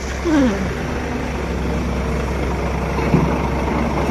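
A tractor engine idles with a steady low rumble, close and continuous throughout, while a voice briefly sounds near the start and again near the end.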